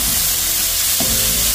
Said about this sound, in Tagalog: Tapos saka natin prito yung karne.